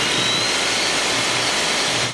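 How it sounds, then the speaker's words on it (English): A handheld electric mixer beats egg whites to soft peaks for chocolate mousse, a steady loud motor whir with a high whine, continuous and unbroken close by. "Using my handheld electric mixer, I'm going to beat the egg whites until they too hold soft peaks"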